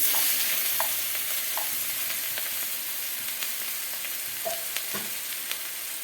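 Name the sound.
onion frying in hot oil with cumin and bay leaf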